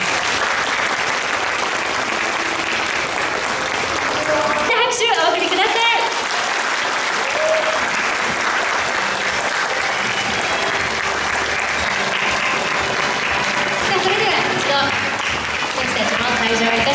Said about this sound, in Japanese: 拍手を手拍子でお送りください。